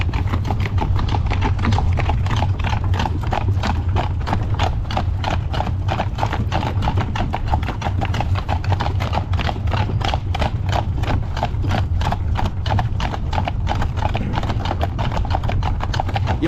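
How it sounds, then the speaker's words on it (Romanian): Large horses clip-clop in a rapid, steady stream of hoofbeats, close and loud for the whole stretch, with an occasional neigh mixed in; no speech. "Mamă, dar sunt enorm de mari cai."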